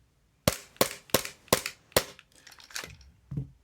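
Tokyo Marui Glock 19 Gen 3 gas airsoft pistol on green gas, stock nozzle, fired without BBs: five sharp, evenly spaced close-up cracks, followed by a few softer clicks and clatter.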